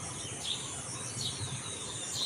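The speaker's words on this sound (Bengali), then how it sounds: "কি সুন্দর পাখির আওয়াজ" Birds chirp outdoors on a breezy morning, their high, faint calls repeating a few times over a steady hiss of wind or insects, with no one speaking.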